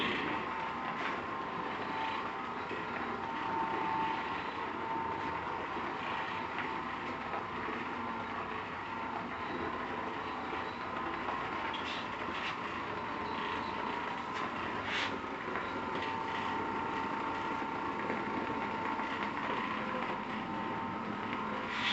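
An Oreck Orbiter floor cleaning machine running on a hard floor, a steady, fairly quiet mechanical hum and whir that holds constant from start to finish.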